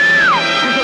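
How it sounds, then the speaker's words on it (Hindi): A woman screams for help in a Bollywood film, a single loud, high cry that slides down in pitch and fades within a second. "वो मदद के लिए चिल्ला रही है"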